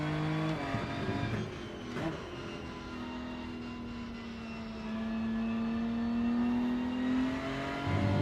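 A race car engine in the Rennsport racing game on the Nürburgring, droning steadily with strong harmonics and its pitch climbing slowly under sustained throttle, with a lift and re-rise near the end.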